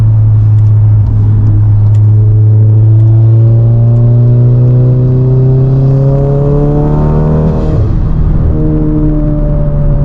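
A 600bhp VW Golf R engine pulls hard under acceleration, loud and close. Its drone climbs steadily in pitch through one long, strong pull, then dips briefly and surges again near the end, with no one talking over it.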